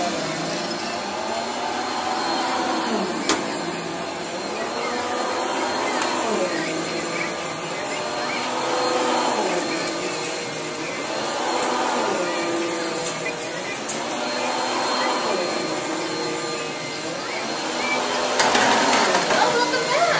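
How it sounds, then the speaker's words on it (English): Vacuum cleaner running steadily nearby in a home, a loud continuous whine whose pitch rises and falls in slow sweeps as it is pushed back and forth. "Are you vacuuming?"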